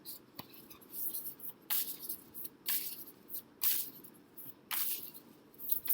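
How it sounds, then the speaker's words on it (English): A deck of cards being shuffled in quick separate bursts, close and fairly quiet, each riffle or slide a short crisp hiss, with pauses between them in a near-silent room. "I'm going to shuffle more and give cards."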